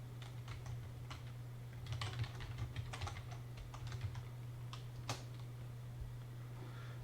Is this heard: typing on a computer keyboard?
yes